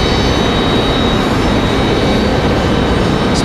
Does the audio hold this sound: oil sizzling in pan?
no